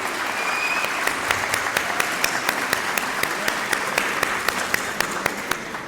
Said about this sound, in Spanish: le agradezcamos con un fuerte aplauso